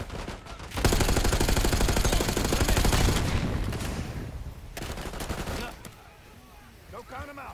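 Heavy automatic gunfire in Call of Duty: Black Ops 6, loud sustained bursts for a couple of seconds that thin into scattered shots and distant rattles, with faint voices near the end.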